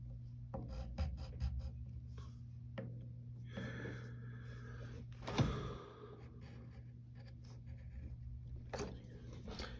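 Pencil or marker scratching across paper while a cartoon figure of Stitch from Lilo & Stitch is sketched, a steady close rasp of repeated short strokes over a low background hum, with one brief louder scrape midway.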